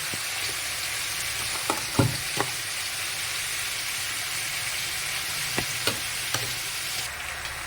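Poppy seed paste goes into ridge gourd and potato frying in a pan, a steady close sizzle with a few sharp spoon clinks against the pan, no voices.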